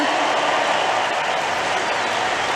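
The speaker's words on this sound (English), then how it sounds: "The Poles in the crowd making themselves heard" Polish fans cheering in a tennis stadium during the US Open women's final, a dense, steady roar of crowd noise and applause filling the space without letup.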